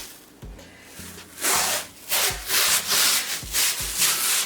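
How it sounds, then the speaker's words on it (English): Transfer tape is being rubbed and smoothed onto a cut vinyl sign, close-up, in a repeated rhythm of about eight firm rubbing strokes, loud and alone. "I am gonna put some transfer tape up there as well."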